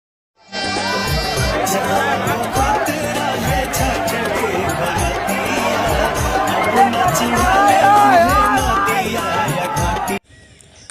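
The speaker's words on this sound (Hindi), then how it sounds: "भाई साहब क्या भीड़ है, ऐसा भीड़ मैंने कभी देखा ही नहीं है आज तक" Dense crowd of fans gathered for Bhojpuri star Pawan Singh's arrival in Jawainiya village, a loud continuous babble of many voices with shouts and whistles close by, sustained throughout before dropping off abruptly near the end.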